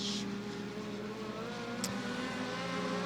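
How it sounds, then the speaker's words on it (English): Legend race cars at Beckley Motor Speedway drone around the oval, producing a sustained engine roar with steady tonal whine heard from a distance, with no talk over it. "Travis Mills about to make this into a race down to the back stretch."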